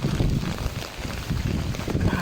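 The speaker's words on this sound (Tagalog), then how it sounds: "Grabe yung hangin sa dagat oh." Strong storm gusts buffet the microphone in a low roar, with rushing noise rising and falling over open sea.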